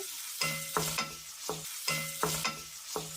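Green chillies and chopped onion frying in oil for an okra curry, with repeated rhythmic stirring scrapes over a steady close sizzle and no talking.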